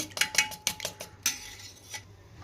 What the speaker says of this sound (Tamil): முட்டையை நல்லா அடித்து விட்டுக்கிறணும்